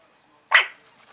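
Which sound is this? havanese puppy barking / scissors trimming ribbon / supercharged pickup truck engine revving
havanese puppy barking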